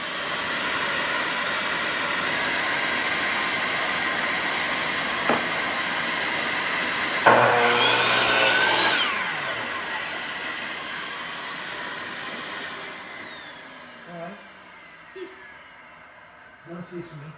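A power saw cuts through 2x3 wood pieces during a furniture build: a loud whining burst of cutting that fades as the blade spins down, set against steady workshop machine noise, with a few small knocks afterward.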